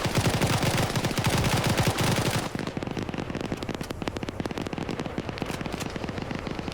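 Sustained automatic gunfire in a military shooter game firefight between AAF and FIA forces in woods, dense rapid bursts that are loud and close at first, then continue as slightly quieter crackling shots.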